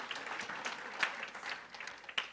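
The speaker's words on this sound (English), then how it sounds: "So applause to you." Audience applause at a jobs summit, a thin, moderate patter of clapping with a few sharper claps standing out, fairly steady across a couple of seconds.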